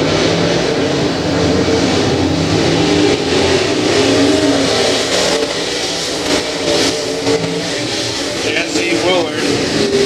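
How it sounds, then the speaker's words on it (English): Race cars roar around the Humboldt Speedway dirt track during King of America qualifying, engines revving and droning steadily and loudly throughout, with an announcer talking over the noise. "Car number 90 slows on the back straightaway."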